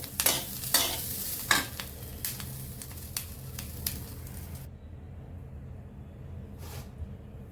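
Capsicum roasts in a hot pan while a spoon stirs it, giving a string of scraping knocks over a low, steady sizzle. After the stirring stops the frying goes quieter, with one last scrape near the end.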